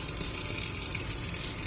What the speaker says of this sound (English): make sure the water is very hot, and then I'm going to add it to the quinoa